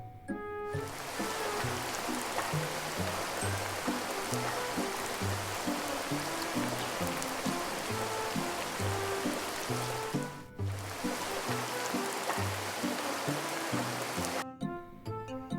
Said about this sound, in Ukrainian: Це крапає дощик.